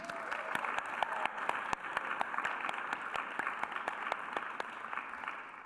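An audience at a staff reading claps in a steady, moderately faint round of applause, with a few individual sharp claps standing out above the wash of hands.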